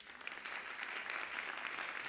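An audience at a corporate talk applauds, a steady, even wash of clapping from many hands heard at a moderate distance throughout.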